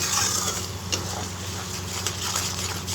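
Spice paste with cumin powder, ginger and cashew being sautéed in a pan for doi patol, a close, steady sizzle broken by scraping stirs of the spoon against the pan.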